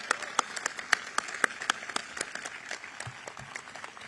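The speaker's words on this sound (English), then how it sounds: "Give them a big round of applause as we start their graduation today" A military ceremony audience applauds a couple as their graduation begins, a brief, moderately faint burst of clapping that thins out over a few seconds.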